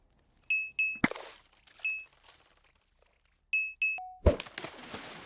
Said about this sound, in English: Once you hear an extra bonus chime